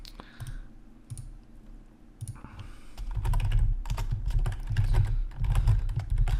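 Rapid keystrokes on a computer keyboard while naming a new folder in the CRYENGINE editor, a few sparse clicks at first, then a dense, steady burst of close typing with no talk.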